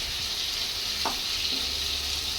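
Pangas fish frying in plenty of oil, a constant bright sizzle with one brief knock of a spatula being stirred through the pan, close and without voices.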